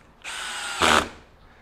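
A DeWalt DCD794 20V brushless stubby drill drives a 3-inch construction screw, a close, loud motor whine that rises into a harsher burst as the screw sinks, then cuts off.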